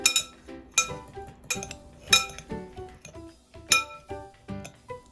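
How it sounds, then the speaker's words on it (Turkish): Ingredients for a pizza-style filling being mixed in a bowl: a spoon clinks and taps rhythmically against the bowl in quick bursts, close and clear with short pauses between strokes. "Ardından bütün bu malzemeleri güzelce harmanlıyorum."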